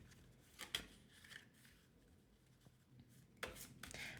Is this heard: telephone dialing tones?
no